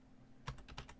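A few quick keystrokes tap on a computer keyboard, faint and close in a quiet room, a short run of light clicks with no talking.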